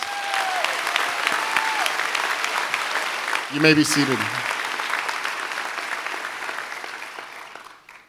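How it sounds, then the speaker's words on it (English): Audience applause at a 2019 Medal of Valor ceremony honoring correctional officers fills the hall with steady dense clapping, then tapers off as a voice speaks briefly near the middle. "Let's give them another round of applause"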